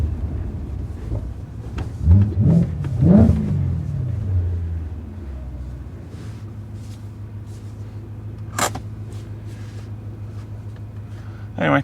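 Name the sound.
BMW E92 M3 engine revving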